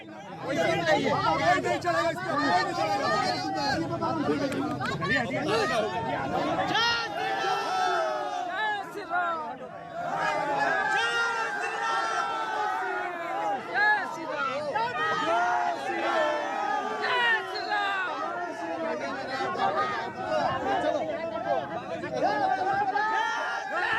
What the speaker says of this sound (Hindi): जहां बाबा के चार्टर्ड प्लेन तक भीड़ पहुंच गई और एयरपोर्ट के नियम के कानून भी तोड़े गए।